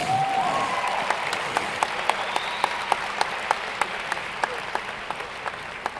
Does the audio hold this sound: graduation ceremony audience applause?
yes